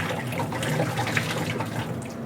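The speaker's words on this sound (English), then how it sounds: "You want to make sure you're just pouring out the water." Water poured from a pot of boiled corn, a steady continuous splashing pour running the whole time, fairly close and moderately loud with no voices.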